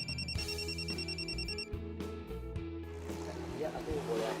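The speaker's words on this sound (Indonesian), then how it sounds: "aku boleh angkat telepon bentar" A mobile telephone rings with a bright repeating electronic melody over a music bed, pulsing in short regular bursts for a few seconds before fading into the background.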